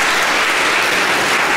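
Loud, dense audience applause at a children's piano recital, a continuous wash of many hands clapping with no pauses.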